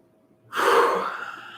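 A single long, smooth breath taken during a relaxation exercise starts sharply, then flows on steadily and close for about a second, with no talk over it.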